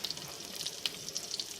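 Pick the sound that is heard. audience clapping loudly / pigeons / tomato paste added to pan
tomato paste added to pan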